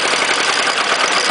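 A gas engine converted to run on diesel revs at high RPM, a loud, close, continuous roar that holds steady throughout with a slight uneven pulse.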